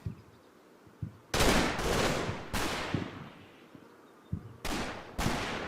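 .50 caliber machine gun fire in the Normandy battle video game Combat Mission: Battle for Normandy: four sharp, loud bursts of rapid shots, two close together early and two later, separated by quiet gaps.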